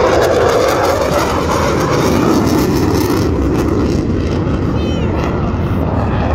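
A Eurofighter Typhoon jet at the Ayr air show roars continuously and loudly overhead, a broad sustained engine rumble and hiss throughout, with faint crowd voices underneath.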